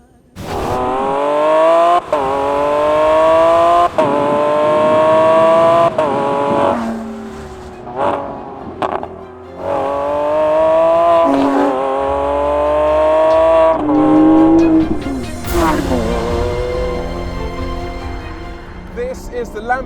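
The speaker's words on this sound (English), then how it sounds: "This is the Lamborghini Aventador SVJ Roadster." A Lamborghini Aventador SVJ Roadster engine revs loudly and nearby in repeated rising surges, its pitch climbing through each pull before dropping back and building again.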